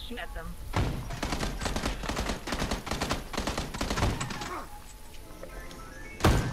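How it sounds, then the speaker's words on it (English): Gunfire in the video game PUBG, with rapid bursts of shots and dense crackling volleys, moderately loud, followed by a quieter stretch and one sharp final report. A voice speaks over the shooting. "Somebody else is shooting at them."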